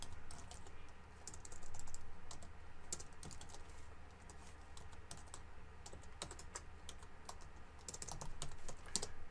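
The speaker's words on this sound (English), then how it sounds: "Having trouble typing." Rapid, irregular typing on a computer keyboard while working at a Linux command line: a continuous run of close, sharp clicks with brief pauses and steady background hum, no talking.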